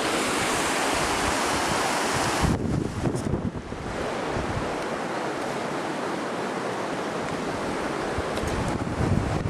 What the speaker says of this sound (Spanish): Y estamos encima del río Colca.